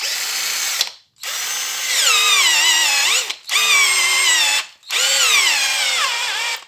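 A cordless screwdriver with a newly replaced battery runs in three loud, close bursts, its motor whine rising and falling in pitch as the trigger is squeezed, with short silent pauses between.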